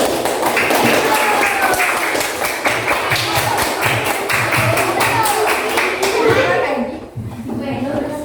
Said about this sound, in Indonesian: Kita kasih tepuk tangan terlebih dahulu